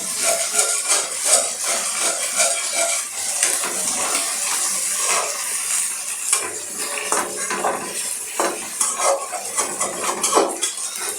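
Green chillies are stirred and fried in a pan, with busy clinking and scraping of a metal spoon against the pan over a soft sizzle, close and continuous, with no voices.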